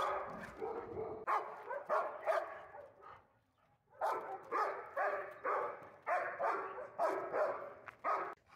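An aggressive English Shepherd bitch barks at other dogs, including a Rottweiler, in a residential subdivision setting: repeated sharp barks in close rhythmic bursts, a brief lull, then another fast volley, with no talking.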